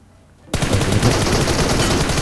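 Gunfire in the mobile battle royale game PUBG Mobile breaks out abruptly after a quiet half second, becoming a loud, dense, sustained automatic burst that fills the remainder.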